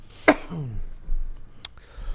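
A single sharp cough near the microphone, followed by a short throat-clearing sound and quiet background.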